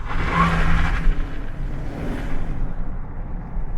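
A 2025 GMC Sierra 1500 Denali Ultimate pickup engine, fitted with an aftermarket air intake and exhaust, builds from a rising rev into a steady mid-pitched drone heard from inside the cab as it accelerates.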